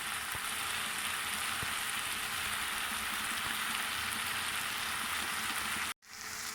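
An aloo matar gajar curry of potatoes, peas and carrots bubbles and sizzles steadily in a pan. The hiss is close and continuous and cuts off abruptly near the end.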